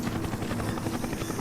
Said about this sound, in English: Mason and Wood starts off hurrying through a scrapyard, hiding from enemy helicopters flying overhead